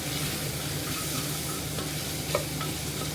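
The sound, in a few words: potatoes browning in a pan with salt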